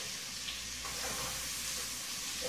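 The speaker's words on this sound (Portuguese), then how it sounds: "Esperar fritar um pouquinho a linguiça." Linguiça sausage frying in a pan alongside garlic and onion, giving a constant, close hiss and crackle that holds steady with faint stirring, no voices.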